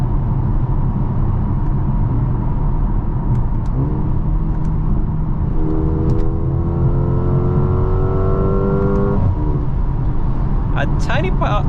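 A 2023 Mercedes GLA 35 AMG with a 2.0-liter turbocharged inline-four and 8-speed dual-clutch transmission pulls under load, a steady close engine drone with rising tones, under talk from inside the cabin.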